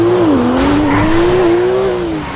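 A turbocharged car in the video game GTA drives past, its engine holding a bright, steady tone that dips and rises slightly before fading a touch at the end, with no talking over it.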